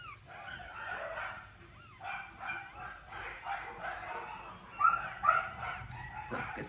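Ten-day-old puppies in a litter whimpering and giving high, thin yelps, a soft, continuous chorus of cries with two sharper squeaks near the end, heard up close over a faint low background.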